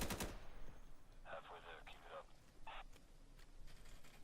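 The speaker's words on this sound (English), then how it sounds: "He's shooting at us." Faint, distant bursts of automatic gunfire in the tactical shooter game Insurgency: two short volleys close together, then a brief third, over a low hum of background noise.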